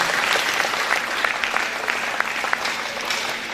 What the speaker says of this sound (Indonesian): Tepuk tangan buat Tuhan Yesus dulu.